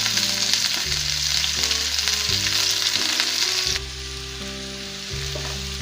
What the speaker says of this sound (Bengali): পেঁয়াজ কুচি এবং কাঁচামরিচ একসাথে দিয়ে দেব ভাজার জন্য।